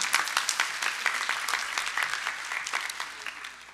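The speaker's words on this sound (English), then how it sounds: "you can give a round of applause now then" A crowd claps steadily in dense applause throughout a school promotion ceremony, fairly loud and close, with no voices over it.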